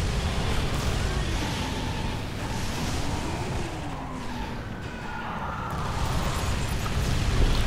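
Vehicle combat in Twisted Metal Black as the car Crazy 8 is destroyed: a dense roaring rumble of engines, skidding tires and blast noise, loud and continuous, swelling again toward the end.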